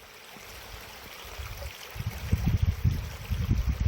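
A clear mountain valley stream runs beside a rural house in Danyang, heard as a steady low watery rush that grows louder and more gurgling toward the end, with no voices.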